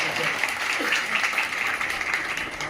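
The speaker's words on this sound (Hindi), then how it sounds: "उनके लिए जोरदार तालियां" An audience at a Teacher's Day felicitation program claps loudly for a speaker, a full, continuous burst of applause with a faint voice or two mixed in underneath.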